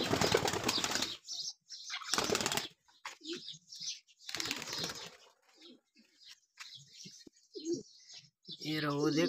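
Loud bursts of flapping wings from pigeons, mixed with soft cooing and chirps, close by with brief pauses between flurries.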